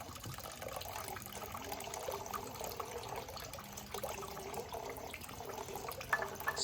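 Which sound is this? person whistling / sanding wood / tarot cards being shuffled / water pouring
water pouring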